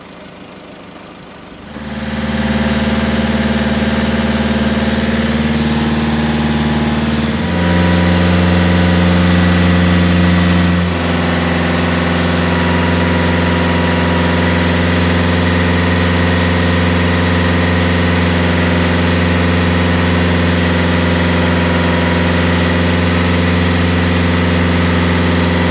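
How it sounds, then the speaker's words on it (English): Peugeot HDi diesel engine starting and running close up, a loud steady diesel clatter with a raised rev partway through before settling back to a constant idle. "You want to try and heat it, get a bit of rev, Roddy."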